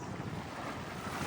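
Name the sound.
sea waves at Waikiki beach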